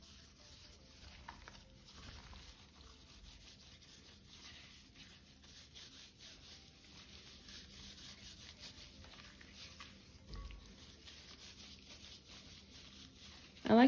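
Turkey wings being mixed by hand with Cajun seasoning make a soft, steady rubbing and rustling that stays faint and close throughout, with a brief louder knock at the very end.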